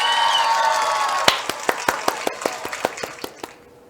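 A small group begins clapping and then settles into a series of about a dozen sharp, evenly spaced claps close by, fading out at the end, with a voice speaking before the clapping starts.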